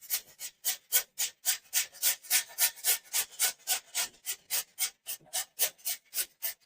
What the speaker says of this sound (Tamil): அடுத்தது நம்ம இதே மாதிரி பீட்ரூட்டையும் துருவி எடுத்துக்கலாம்.